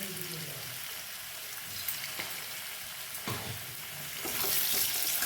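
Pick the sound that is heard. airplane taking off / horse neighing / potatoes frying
potatoes frying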